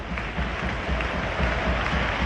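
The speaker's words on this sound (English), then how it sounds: "Warm applause for Dion Charles." A football stadium crowd at a Northern Ireland versus Denmark Euro 2024 qualifier applauds in a dense, steady wash of clapping and crowd noise, continuous throughout.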